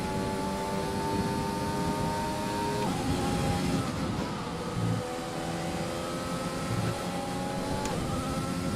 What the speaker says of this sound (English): I love how the engine sound when you're right against the wall.